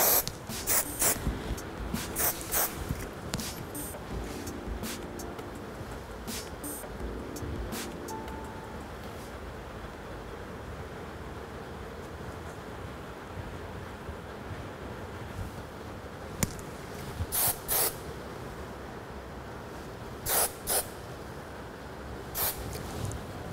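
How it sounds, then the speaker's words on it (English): A can of hairspray sprays onto lifted, set hair in short hissing bursts, several quick sprays spaced apart against a quiet room. "I'm just going to use some hairspray. Lift it up. Spray it."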